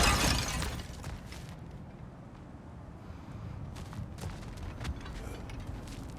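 Objects smashed apart in God of War Ragnarök: a loud crashing burst at the start, then a low rumbling bed with a few scattered crunches and cracks later on.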